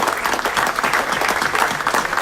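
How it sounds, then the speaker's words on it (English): Aurora City Council chamber applause for National Night Out volunteers, brisk, even clapping from a crowd, close and fairly loud throughout a short burst. "let's give them a round of applause for everything our National Night Out volunteers do for the city of Aurora"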